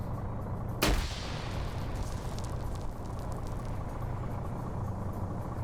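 A grenade blast in Arma 3 lands as one sharp, loud burst with a short decaying tail, then gives way to steady distant gunfire and battlefield rumble.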